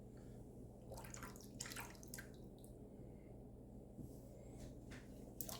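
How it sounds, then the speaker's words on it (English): Water runs and drips steadily as a shaving razor is rinsed under it, quiet and close, with scattered brighter splashes and clinks throughout. "Let's give it a rinse, shall we?"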